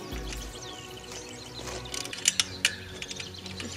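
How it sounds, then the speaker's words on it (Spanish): Ratchet wrench tightening a nut onto a bolt while fitting livestock fence mesh outdoors, a few quick clicking bursts over steady background noise with birds chirping nearby. "cogemos con la llave inglesa y con la carraca"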